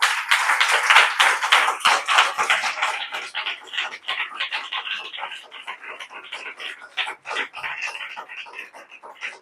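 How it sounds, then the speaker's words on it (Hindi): A church congregation claps hands loudly, fast dense clapping at first that thins into a looser, rhythmic patter of individual claps, fairly close and with no talk over it. "जितना हो सके जोर से प्रभु के लिए ताली बजा दे।"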